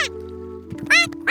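An animated little duckling gives two bright, close quacks in quick succession over a low sustained tone in a cartoon scene.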